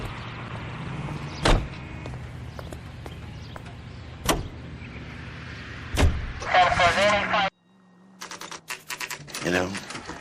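Car engine in the video game LA Noire: a low, steady drone under sharp, loud knocks and clicks, with a busy rattling burst before the sound drops out abruptly near the end.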